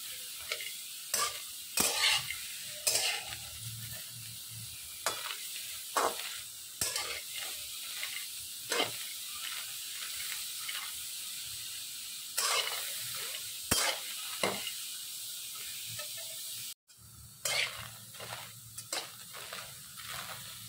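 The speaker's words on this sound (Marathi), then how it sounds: "चला आता आपण गवार भाजून घ्यायची।" Cluster beans roast in a pan and are stirred, with a constant sizzle and repeated sharp scraping strokes of the spatula at an uneven pace, close and clear, with no talking, and a short break near the end.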